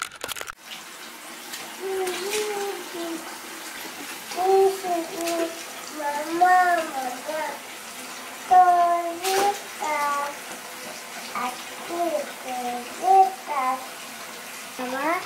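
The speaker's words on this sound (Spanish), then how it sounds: "¿Cómo te lavas las manos? Lávate las manos." Water runs steadily from a tap as a toddler washing hands with soap and water stands at the sink, the running stream soft and continuous beneath an adult voice talking close by.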